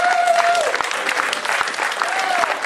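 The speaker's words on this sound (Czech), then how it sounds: "Tak a tento potlesk zároveň otevírá výstavu" An audience applauds to open a 2015 gallery exhibition at Galerie Vokno in Osvračín, a dense, sustained round of clapping from a crowd close by, with a faint tonal whine drifting over it.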